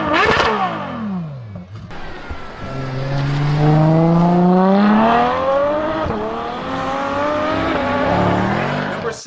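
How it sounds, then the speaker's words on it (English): A Ferrari V12 engine revs hard, a loud, clear rising howl that climbs through the gears, with shifts between pulls and a brief sharp blip at the start. "You can't go wrong with anything from Ferrari, but these V12s are just perfect."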